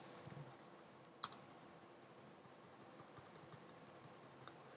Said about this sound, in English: Stuff I'm typing.